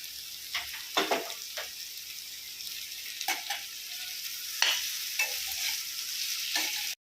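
Potato masala mixture for hotel-style masala dosa being stirred in a pan: a faint low sizzle broken by intermittent scraping and knocking of a spoon against the pan, close and fairly quiet.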